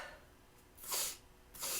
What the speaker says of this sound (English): And you sniff it in like that